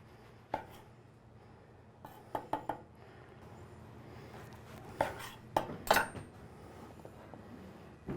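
A knife saws through the crusty top of a hollowed bread roll bowl for oyster stew, a few sharp crunchy cuts and light clinks of dishes near and close, with quiet gaps between, no talk.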